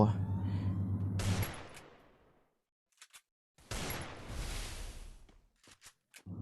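Gunfire in a Thai shooting video game: two loud bursts of shots separated by a quiet gap, followed by a few short isolated cracks.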